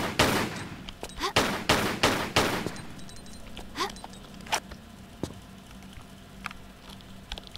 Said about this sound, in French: Flingue classique.